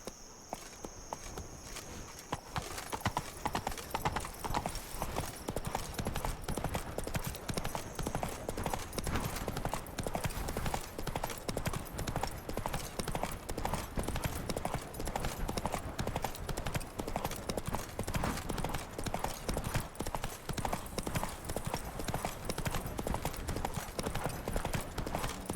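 Hooves of Roach, Geralt's horse in The Witcher 3, clip-clop in a steady, even rhythm close by, with faint insect chirps in the background and no talk.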